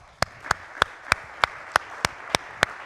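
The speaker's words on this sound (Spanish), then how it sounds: "Un aplauso para ellos." Slow, evenly spaced claps, about nine sharp hits in under three seconds, sounding more like a few hands than a full crowd, at a congress for a panel of Ibero-American organisation leaders.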